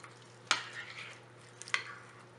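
Shredded cabbage being mixed into pakora batter in a bowl, heard as two brief scraping, stirring bursts with quiet pauses between, close and fairly soft, with no talking.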